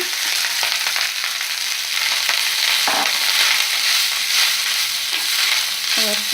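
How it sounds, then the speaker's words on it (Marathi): Rice fries and sizzles in a pan with a cumin tempering while it is stirred, giving a loud, continuous hiss broken by a few scraping stirs and no talking. "व्यवस्थित मिक्स करून घेऊया।"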